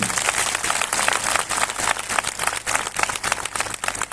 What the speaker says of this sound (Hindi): ऐसे महान परमेश्वर के लिए जोर से ताली बजा के धन्यवाद